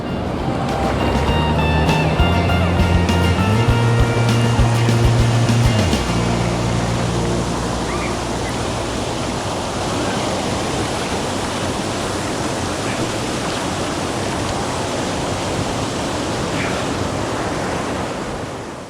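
Steady rushing water from a small waterfall and creek, a constant broadband roar, with a brief tonal motor-like hum fading out early.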